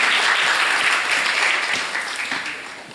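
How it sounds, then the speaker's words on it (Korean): Audience applause at a concert event honouring a musical director, with steady broadband clapping throughout that gradually fades slightly toward the end. "박수 보내주세요."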